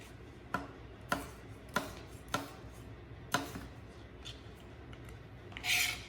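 New potatoes sliced with a knife on a cutting board, a run of five or six crisp, evenly spaced chops close by, followed by quieter handling and a brief scrape.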